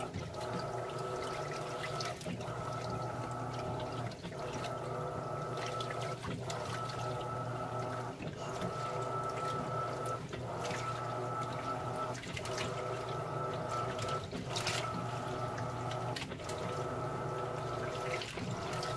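An Electrolux LPR washing machine (LPR13, LPR16 or LPR17 series) loaded with towels fills with water in a steady, close rushing pour. A faint rhythmic pulse recurs about every two seconds, and no voices are heard.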